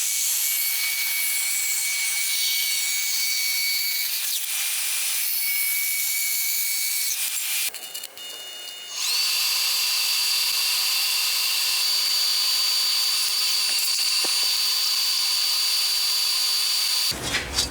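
A metal welding test panel is cut in half with a power tool, giving a steady, loud, high-pitched grinding whine that runs almost continuously, dips briefly midway, then resumes with a strong tonal ring until it stops near the end.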